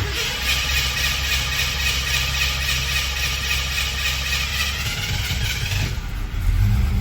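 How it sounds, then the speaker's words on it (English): A Ford Mustang engine just after a cold start runs rich with the choke on, holding a steady, loud idle hum up close before a brief rise in revs near the end. "Let's start with a nice cold start here."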